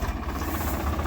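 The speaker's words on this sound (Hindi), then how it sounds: "चला के दिखाओ भी ट्रैक्टर नू" A Swaraj 855 tractor engine runs nearby with a loud, steady, throbbing low rumble and a rough vibrating texture, and no one speaks over it.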